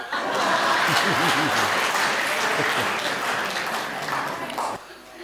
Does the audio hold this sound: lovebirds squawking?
no